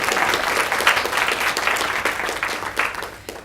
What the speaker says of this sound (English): I think a round of applause for our principal of the year is in order.